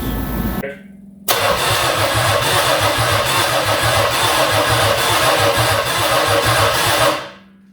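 A 1982 Oldsmobile 4.3 V6 diesel that had been sitting cranks briefly, pauses, then catches and settles into a loud, rhythmic diesel clatter before shutting off.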